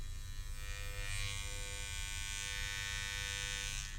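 A zero-gapped electric hair trimmer runs steadily with a continuous, quiet, high-pitched buzz and hum, close and alone.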